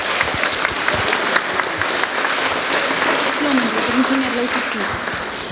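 An audience gives sustained applause to debate participants, a dense, even wash of clapping from many hands that runs throughout, with a voice faintly underneath.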